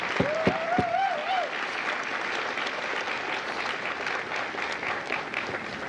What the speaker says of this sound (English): would you please join me in a round of applause for the families of Fox Company